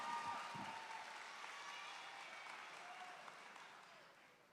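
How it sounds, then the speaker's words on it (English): Audience applause at a 2021 Epic Academy graduation ceremony honoring a speaker, a sustained broadband clapping wash that stays steady and fades slightly toward the end, with no voices over it. "Let's give Mr. Wiley another round of applause"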